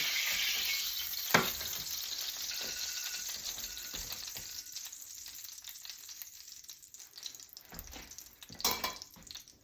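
Brined steaks fry in a hot pan with a continuous bright sizzle, punctuated by a few louder crackling bursts and clattering pan sounds, fading slightly then flaring again near the end.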